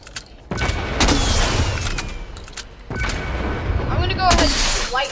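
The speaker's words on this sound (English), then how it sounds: "the new flare gun is basically a reskin flare gun, but it shoots fireworks." Video game flare gun that fires fireworks, with two heavy booming shots a few seconds apart, each followed by crackling and whistling bursts, under and between a player's talk.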